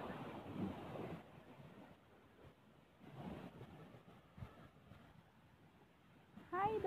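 Calm sea waves wash softly onto a beach, a faint, steady surf murmur mixed with light wind noise, with a brief chirping sound near the end.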